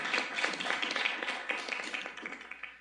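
Applause in a lecture hall at an architecture conference, a short, dense burst of many hands clapping steadily for under three seconds, with no talking.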